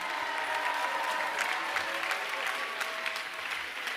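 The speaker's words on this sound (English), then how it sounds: "Let's also give a big round of applause to the high school Crusader Live members for helping with the live" Audience applause at a school band concert, a dense crackle of many clapping hands, steady and moderately loud throughout with a few sharper claps standing out.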